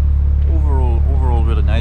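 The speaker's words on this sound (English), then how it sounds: "It's noisy enough as it is with the car being on." Mitsubishi Lancer Evolution 6 Tommi Makinen Edition idling, a loud, steady low engine hum filling the background while someone talks over it close by.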